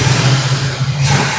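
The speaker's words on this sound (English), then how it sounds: "You can sit here, you hear the car run." A 1967 Camaro engine runs with a pump feeding fuel straight to the carburetor, producing a loud, steady low hum and rumble heard up close.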